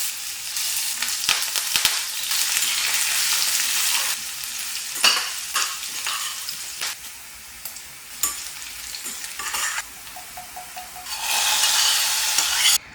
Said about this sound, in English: For tadka, I add in oil, mustard seeds, whole peppercorns, finely chopped fresh ginger, green chilies, curry leaves, cumin seeds and pepper powder.